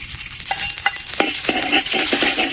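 Food frying in ghee in a kadai, with a continuous sizzle broken by sharp metallic scrapes and clinks from stirring.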